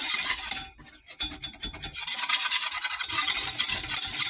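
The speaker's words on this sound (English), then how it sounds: "we're going to mix together this butter and flour until it's evenly mixed" Butter and flour roux stirred in a pan for Tex-Mex burgers, a steady close scraping and rubbing of utensil against pan with faint sizzling, continuous with brief pauses.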